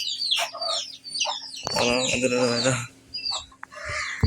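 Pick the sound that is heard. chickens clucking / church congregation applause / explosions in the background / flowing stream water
chickens clucking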